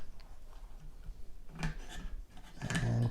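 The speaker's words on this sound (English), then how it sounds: "So you pull this part right here and then slide it on out." AR-15 bolt carrier scraping and sliding out of the rifle's upper receiver, a close, quiet metallic rasp and rub lasting a few seconds with a brief clink near the end.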